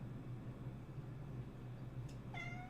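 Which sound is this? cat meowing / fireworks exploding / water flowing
cat meowing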